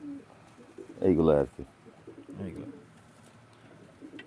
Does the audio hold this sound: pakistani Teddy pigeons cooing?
yes